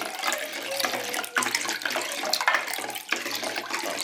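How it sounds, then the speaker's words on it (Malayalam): Water pours steadily into curd in a kitchen while traditional Kerala spiced buttermilk is being made, a continuous splashing stream close by with small surges, no voices. "ഏകദേശം ഒരു 3 കപ്പ് വെള്ളം നമ്മൾ ഒഴിച്ചിട്ടുണ്ട്."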